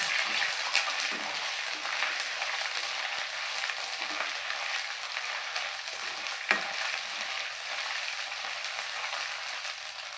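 Onions fry in oil with ginger garlic paste, giving a continuous close hissing sizzle that holds steady for about ten seconds. A few small clicks and pops break through it.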